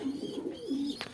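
Racer pigeons cooing close by, a soft repeated throaty coo in two or three low rolling phrases with a faint chirp near the end, no talking.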